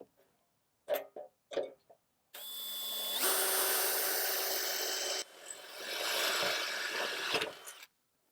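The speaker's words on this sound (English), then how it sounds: "you'll be using a 1/4-inch aluminum bit to make those holes" A power drill with a 1/4-inch aluminum bit bores holes while mounting a motorized screen housing, giving a steady whirring grind of about five seconds with a brief dip midway, preceded by a few short knocks.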